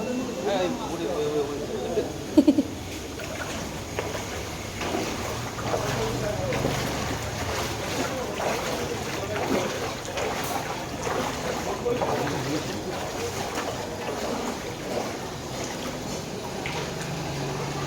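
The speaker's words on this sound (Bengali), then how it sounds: "এটা নৌকা" A boat moves through floodwater in flooded streets with steady wind noise rushing across the microphone, and voices talk faintly underneath.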